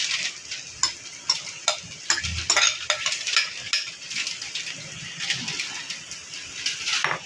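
A utensil scrapes and clinks against a pan while beaten egg and vermicelli (semiya) are stirred together over a soft sizzle, with irregular close taps.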